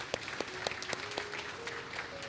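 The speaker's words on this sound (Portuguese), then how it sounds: "Aplauda ao Senhor aí." A church congregation applauds at a sermon by Apóstolo Ederson Borges, with scattered, moderately sparse claps and a steady sustained tone underneath, heard at a moderate distance.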